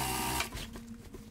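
Sewing machine running a straight seam along a blazer collar, a brief close mechanical whir that cuts off abruptly, followed by faint light clicks.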